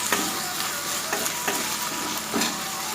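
Mushrooms cooking in oil in a pan for a mushroom kulambu. A soft, steady sizzle is broken by a few light stirring scrapes and no one speaks.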